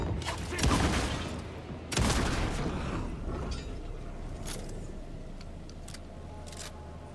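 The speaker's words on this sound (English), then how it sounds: "You want to try the shotgun?" Two heavy shotgun blasts go off in a horror video game, the first near the start and the second about a second later, each a loud broadband crack that fades into a murky rumbling background.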